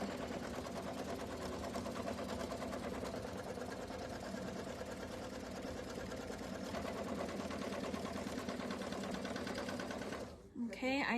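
Longarm quilting machine stitching a tack-down line on a seasonal quilt project, a steady rapid mechanical whir running continuously at moderate level, stopping abruptly near the end with a brief clatter; faint voices murmur underneath.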